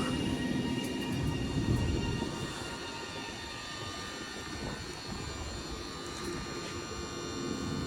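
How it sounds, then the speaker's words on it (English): A Class 331 train departs Roby station, its traction motors and wheels producing a steady, broad rumble and whine that stays fairly constant throughout, heard at a moderate distance with no talking. "Now departing is a double 331 going to Liverpool Street"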